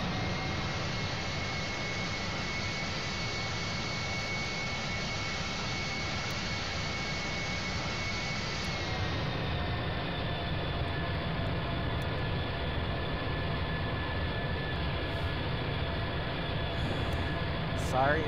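A steady airliner engine drone in the GeoFS flight simulator as the plane taxis to runway 5 for Cebu, a continuous even whine and rumble that shifts pitch slightly midway, with a voice talking over it.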